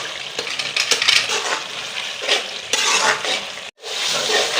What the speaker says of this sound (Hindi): अभी हम इसको अच्छी तरह से भूनते रहेंगे।